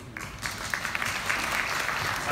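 An audience at a corporate partners' celebration night gives a round of applause. It starts abruptly, with individual claps standing out, and builds into steady clapping from a medium-sized crowd.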